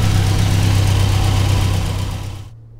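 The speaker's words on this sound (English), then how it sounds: "I richened the carburetors up a little bit. Now it'll actually stay running." A 1963 Sprite's small engine idles steadily up close after its carburetors were richened, a low even rumble with a faint rhythmic pulse that holds for about two seconds before cutting off abruptly.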